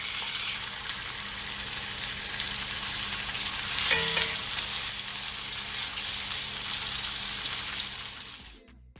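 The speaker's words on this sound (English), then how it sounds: "I'm gonna add my remaining lamb chops to my pot." Lamb chops in garlic butter fry loudly in a pot, a dense, continuous close sizzle with a brief clink near the middle before the sound cuts off abruptly at the end.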